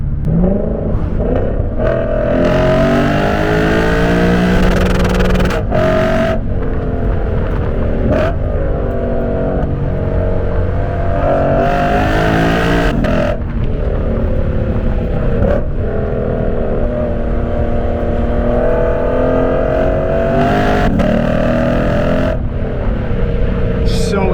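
A Lexus RC F sports car engine with loud exhaust screams continuously, rising and falling in pitch through gear shifts, loud and close throughout.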